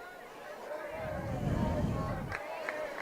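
Crowd at a high school football game under the lights, a broad, steady murmur of spectators swelling in the middle, with an announcer-like voice talking over it and a few sharp distant calls.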